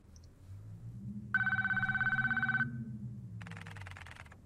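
A phone rings in the pixel horror game Dead Dreams: one clear electronic ring lasting about a second, a pause, then the start of a second ring, over a low hum with a murmuring voice underneath.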